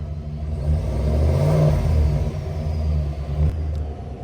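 A 2024 Chevrolet 2500 pickup's 6.6-liter gas V8 revs up from idle with a deep rumble, swelling and then settling back, loud and close throughout.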